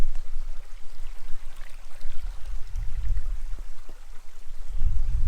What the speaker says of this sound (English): It's right on this creek here. A little shallow creek, but pretty nice.